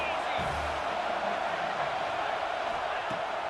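A constant stadium roar of cheering fans from the EA Sports College Football 26 video game, a broad wash of crowd noise holding steady with a few faint thuds underneath.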